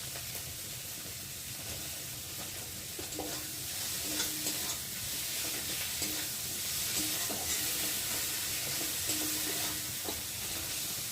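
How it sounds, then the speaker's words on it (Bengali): A tomato added to spices frying in a pan for a red lentil dal tarka, steady soft sizzling and hiss with occasional stirring scrapes, fairly quiet and continuous throughout. "তো দেখো মশলাটা ভালো করে ভেজে নিয়ে আর এখন দিয়ে দেবো একটা টমেটো।"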